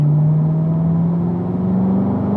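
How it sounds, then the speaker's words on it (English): Car accelerating on a racetrack at a driving school, a steady loud engine drone with pitch slowly rising as it pulls through the gear, heard from inside the car with no talking. "Might accelerate a little bit more, John, and then upshift to fourth gear."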